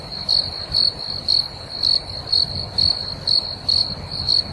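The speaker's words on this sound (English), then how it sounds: "Cue crickets." Crickets chirp in a steady, evenly spaced pulse, about two bursts per second, loud and close against a quiet background with no voices.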